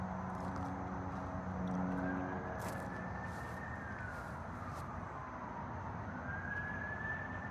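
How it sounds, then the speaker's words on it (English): Emergency vehicle siren passing on a nearby highway in Tennessee, a faint wailing tone sweeping slowly up and down at a distance over a steady traffic hiss, with a few bird calls. "You can hear the emergency vehicle going down."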